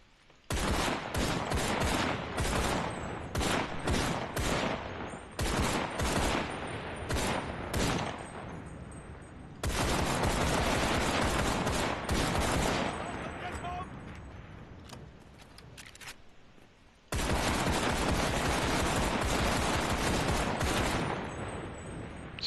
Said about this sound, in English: Starting with the Mondragon. I like this rifle a lot.